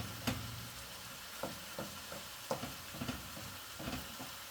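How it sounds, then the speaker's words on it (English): Spaghetti bolognese sauce simmers on low heat in a pot, giving faint, scattered soft pops and ticks at an irregular pace over a quiet background, with no talking. "I'll turn it down to a low heat. Then that will just simmer away"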